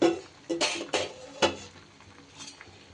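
A lid clatters onto a pan of frying eggplant, with a few loud metallic knocks and scrapes close by, then a softer sizzle underneath.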